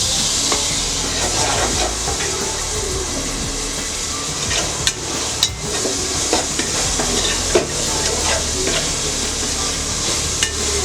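Tomatoes fry in a pan with a constant sizzling hiss, broken by repeated scraping stirs and sharp clacks of a utensil against the pan.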